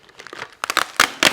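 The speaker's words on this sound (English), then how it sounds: "It just has this plastic bag on it" Plastic factory wrapping bag on a new windsurf mast crinkles and crunches, starting as soft rustles and then breaking into several louder, sharp crinkling bursts up close, with no speech.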